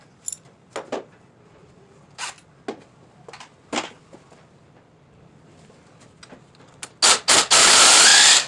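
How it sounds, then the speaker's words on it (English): An impact wrench removes a bolt from a Honda 450 motorcycle during a teardown. First come scattered light clicks and taps from tool handling, then several loud, harsh bursts of hammering rattle close by. One long final burst ends the sequence. "Bolt came right off once we got the impact on it."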